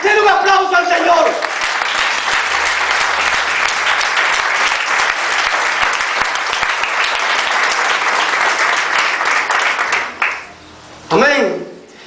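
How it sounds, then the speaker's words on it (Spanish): A church congregation applauds loudly and steadily for about ten seconds, the clapping dense and sustained before fading out, followed by a brief spoken voice. "Den un aplauso al Señor."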